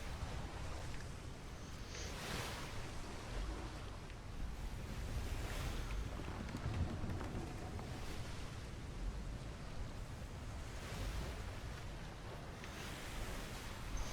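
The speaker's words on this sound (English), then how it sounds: "I love the sounds, just the ocean, and you hear the creaking of the ship." Sailing ship at sea in the video game Atlas, steady ocean wash and wind rolling in broad surges with faint wooden creaks beneath, no talking.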